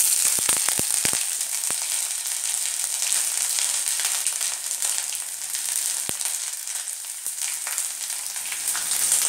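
Bay leaves, whole spices including cloves, cardamom and cinnamon, and ginger paste sizzle steadily in hot oil for a Malai Kofta curry, with a constant close hiss and scattered sharp pops and crackles, mostly dense near the start.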